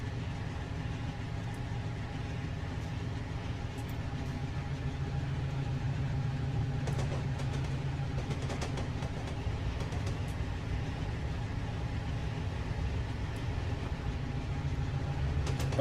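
Freight train running through Cajon Pass in the Train Sim 2019 game, a steady low diesel engine drone with a continuous rumble and occasional faint metallic clicks, unbroken for the whole stretch.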